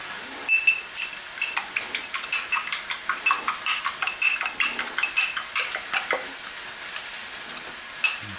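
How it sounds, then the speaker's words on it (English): A fork beats an egg in a bowl for squash fritters, making quick, rhythmic metallic clinks and taps, about three per second, close and clear with no talk. "And I'm going to beat an egg."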